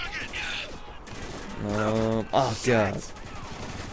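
Turret gunfire in the war shooter Spec Ops: The Line, a steady burst of rapid shots running under the action while a voice exclaims in alarm over it.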